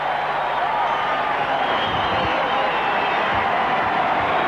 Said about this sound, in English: There's a great roar.